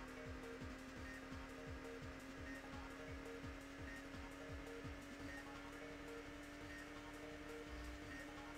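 Racing car engines in the Automobili Lamborghini video game, a steady high-pitched drone joined by rapid repeating revs and shifts during the first half, then a continuous even whine, no voices.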